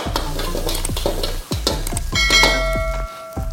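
Fried rice tossed and flipped in a wok during a cooking class, with repeated loud scraping, clanging strokes against steady sizzling, a few metallic ringing tones hanging over the rhythm.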